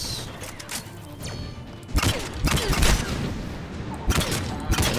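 Repeating gun firing in the video game Mass Effect 3, loud bursts of shots in clusters over constant battle noise, with faint talk in the mix.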